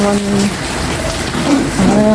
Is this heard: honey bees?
no